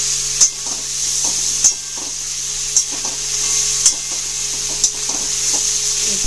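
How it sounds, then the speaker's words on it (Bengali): Chicken sizzles and fries in a pan with a constant bright hiss, broken by a handful of sharp clacks from stirring at irregular intervals. "এটা দিয়ে আমি চিকেনটাকে একটু ভাজা ভাজা করে নেব"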